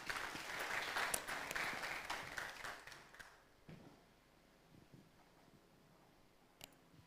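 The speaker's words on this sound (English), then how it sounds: "A round of applause as she comes on the stage." Moderate applause from the audience at an agriculture accelerator pitch day greets a presenter coming on stage, fading out after about three seconds into quiet room noise with a few stray taps and one late clap.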